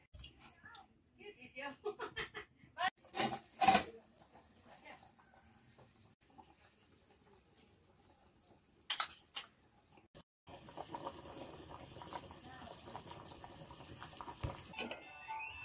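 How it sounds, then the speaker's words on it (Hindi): Water is poured into a wok full of cooking local chicken for soup in a Darjeeling village kitchen. The first half has a voice talking with scattered clatter and splashes, then a steady rushing pour runs to the end. "अभी पानी दे रही है क्योंकि इसका सूप बनाना है"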